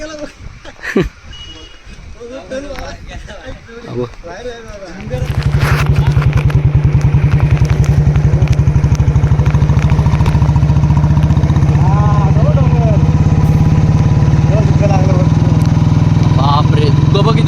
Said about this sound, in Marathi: बाईक घेऊन येत आहेत